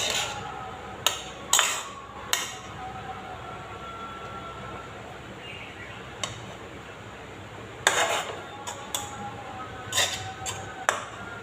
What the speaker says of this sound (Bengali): ভালো করে আমি মিশিয়ে নিচ্ছি।